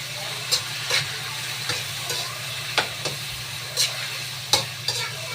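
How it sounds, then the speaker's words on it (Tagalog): Boiled bamboo shoots (labog) sauté in a pan for ginataang labog, giving a steady close sizzle punctuated by about eight scattered stirring scrapes and clacks, with no talking. "So, igigisa natin."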